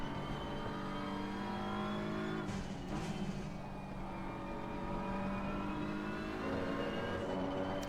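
Engine of a BMW M4 GT3 race car lapping Kyalami in Assetto Corsa Competizione, a loud steady drone with a brief gear change midway. Revs rise and fall through the corners, with no talk over it.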